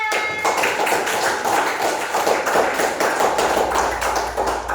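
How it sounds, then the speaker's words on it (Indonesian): A classroom of junior high students breaks into applause, many hands clapping in a thick, continuous patter that stays loud and even throughout, with a brief tone at the very start and no voices. "Ya, tepuk tangannya."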